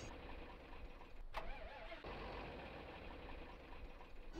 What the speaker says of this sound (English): The tractor just shut off, but let me go ahead and see if I can't get it fired up